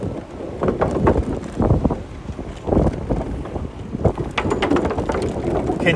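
Wind blows from the south along the Jamaica Bay loop in New York City, buffeting the microphone in loud, uneven low rumbling gusts that last throughout the clip.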